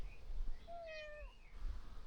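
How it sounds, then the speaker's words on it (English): A single cat meows once outdoors, a clear rising-then-falling call lasting about a second, moderately near, over low background rumble and ambient noise. "Oh, now, hear the cat."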